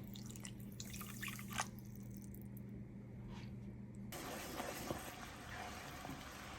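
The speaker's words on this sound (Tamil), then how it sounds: "1/2 கிளாஸ் தண்ணி விடுறேன்." Half a glass of water splashes and trickles into sugar in a pan for Mysore pak, a steady pour, with a low hum underneath and a brighter, fuller rush of liquid toward the end.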